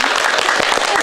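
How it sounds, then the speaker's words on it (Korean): A lecture audience gives a brief round of applause during a talk on manners and image making: a short patter of clapping with some voice-like sound mixed in. "박수 한번 쳐주세요"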